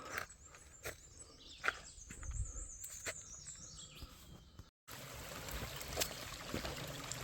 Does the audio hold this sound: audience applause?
no